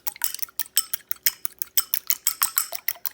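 Two eggs lightly beaten in a bowl with a utensil, a quick run of close, crisp clinking taps against the bowl in a steady rhythm, no voices.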